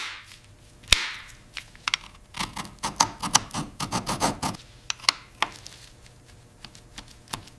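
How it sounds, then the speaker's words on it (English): Scraping and grinding as the seized slide of a 1927 TT pistol is forced loose during restoration, a sharp knock followed by a dense run of gritty rasping strokes, then scattered clicks, close and alone. "With a grinding sound, the slide grudgingly begins to move, millimeter by agonizing millimeter."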